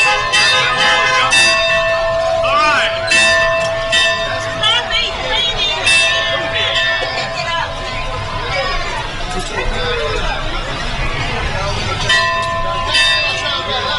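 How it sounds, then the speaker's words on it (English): A bell rings from a parade float at a Sicilian festival parade in Louisiana, bright repeated tones over a loud, busy crowd with chatter and street noise throughout. "ringing the bell there"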